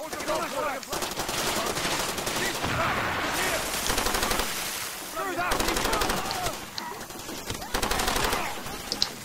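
Turret machine gun fire in the Far Cry 2 video game rattles out in loud, rapid, near-continuous bursts, layered with further gunfire throughout.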